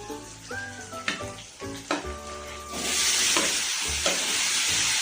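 Pressure-cooked pork goes into a hot pan with bamboo shoots: a few clinks and light knocks first, then a loud rush of sizzling that swells and holds steady, close by and without speech.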